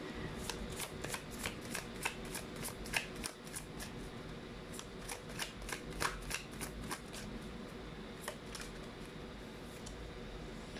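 A tarot deck is handled as cards are pulled and flipped, giving a run of crisp, quick papery snaps and riffles, close and fairly quiet, with no voices.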